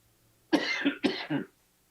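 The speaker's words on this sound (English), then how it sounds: "I have to cough one more time" Two harsh coughs in quick succession, close and loud, separated by a brief pause, with silence before and after.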